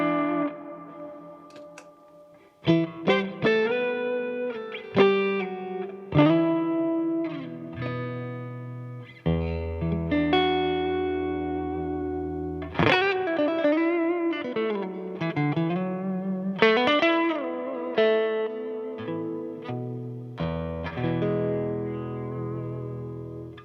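Guitar played through a Vox Cambridge 50 modeling amp with hall reverb, clean single notes and chords ringing out with long spacious tails, loose phrasing with gaps between picks, nobody talking.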